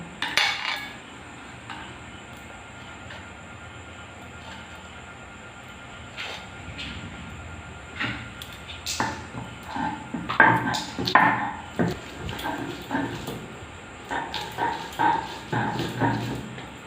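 Garlic being ground by hand on a stone grinding slab, with irregular scraping and knocking strokes that are faint at first, then grow louder and more frequent in the second half.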